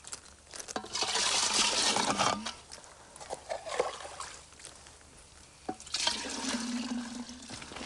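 Water running from a stone monastery fountain in the Himalaya, a steady splashing gush in two bursts separated by quieter trickling, close and fairly loud.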